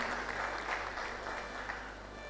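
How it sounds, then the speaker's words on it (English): Audience applause at a professional induction ceremony, a steady wash of many hands clapping in a hall that gently fades toward the end. "Mr. Emmanuel Awogbemi, please a round of applause for him."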